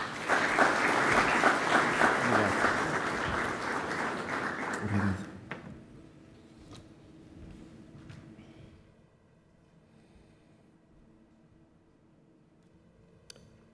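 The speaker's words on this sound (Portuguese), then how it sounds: "E peço o vosso aplauso, por favor." Audience applause at an economic financing conference, a dense sustained burst filling the hall for about five seconds before abruptly fading into quiet room tone with a few faint scattered claps.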